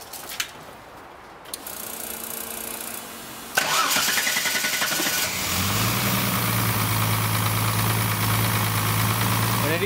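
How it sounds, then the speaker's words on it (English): A car engine fitted with sequential ignition and D585 coils cranks and fires into life, then settles into a steady, slightly high idle that hums on close and continuous. "And it is idling a little bit high at the moment."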